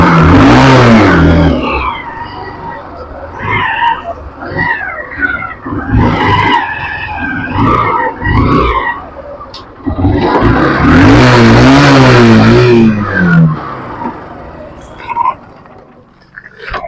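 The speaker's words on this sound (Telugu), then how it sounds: "ఇంజన్ సౌండ్ కూడా స్మూత్ ఉంది" A 2015 Honda Shine motorcycle engine revs and runs on a test ride, loud and close, rising in bursts around the start and again midway with a steady drone between, without any talk.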